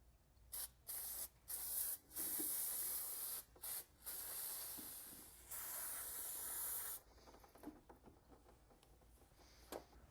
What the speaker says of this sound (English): we're going to take some brake cleaner, spray everything down real well